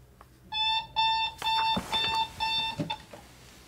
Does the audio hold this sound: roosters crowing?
no